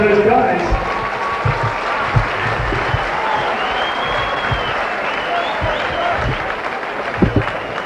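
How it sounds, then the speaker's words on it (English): Crowd applause at a boxing event after a fight verdict, dense sustained clapping from an audience filling the space for several seconds, with scattered louder claps and a voice underneath. "a big round of applause again"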